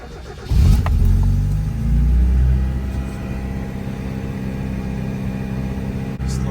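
A Mazda Miata engine cranks, catches and settles into a steady idle after a fuel line repair, a close, loud low rumble that surges briefly and then runs evenly.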